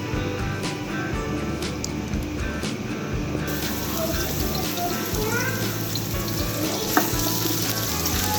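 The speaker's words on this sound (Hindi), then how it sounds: "थोड़ा सा प्याज डाल के इसको थोड़ा सा भूनेंगे।" Onion fries in a pan of oil while yakhni pulao is being made, giving a steady, close sizzle with occasional stirring scrapes and faint watery crackles throughout.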